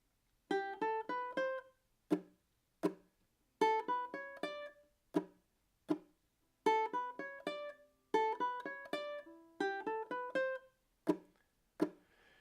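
Plucked ukulele notes ring out in short melodic runs of a theme tune, punctuated by sharp percussive strums and chops, played solo in a clean, repeating pattern.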